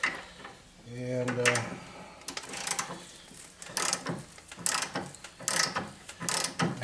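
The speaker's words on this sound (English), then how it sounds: "there's a 22 millimeter socket, and I'm going to try to crank it up so I can get some height underneath." A 22 mm socket is cranked to jack up the rear of a Yamaha Venture motorcycle, giving a series of close, uneven ratcheting clicks and metallic clanks, with brief talk partway through.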